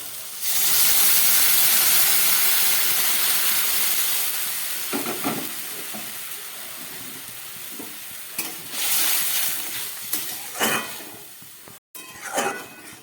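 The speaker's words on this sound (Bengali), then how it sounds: "ঝোলটা ফুটে উঠেছে" Curry broth with fried potato and eggplant boiling in a pot on the stove: a strong steamy hiss at first that eases off, then a quieter bubbling simmer broken by a few clattering stirs.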